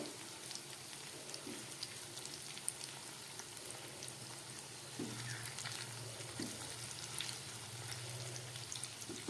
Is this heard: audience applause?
no